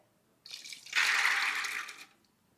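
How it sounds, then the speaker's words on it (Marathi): Water poured into a pressure cooker holding soaked dried peas: a short splash, then a steady, fairly close rush of liquid lasting about a second before stopping, with no talk. "त्यासाठी आपण याच्यामध्ये पाणी ओतून घेऊयात"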